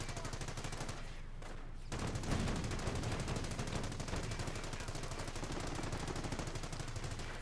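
Machine gun fire in a Company of Heroes battle rattles in rapid, continuous bursts with dense popping shots. A brief gap comes early, and then the fire keeps going steadily and fairly loud.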